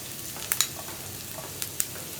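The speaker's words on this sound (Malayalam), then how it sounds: "കടുകൊന്ന് പൊട്ടി വരട്ടെ. അപ്പോൾ നമ്മുടെ കടുക് പൊട്ടി കഴിയാറായിട്ടുണ്ട്." Mustard seeds spluttering in hot oil for a raisin pickle, a low steady sizzle broken by a few sharp, brief pops, heard alone without any talk.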